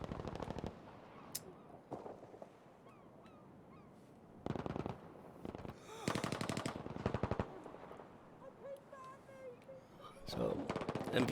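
Automatic gunfire from a competitive first-person shooter esports match between MVP and Vibe, with loud bursts of rapid shots arriving in several separate volleys amid game effects and crowd or caster noise.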